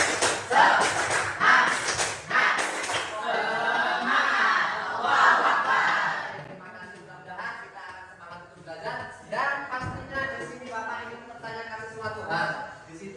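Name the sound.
class doing a rhythmic spirit clap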